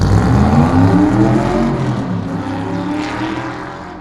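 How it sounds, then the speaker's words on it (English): A loud, deep American V8 engine roars and revs, its tone rising with strong harmonic growl, then gradually fading and easing off over a few seconds. "I love the sound of an American V8"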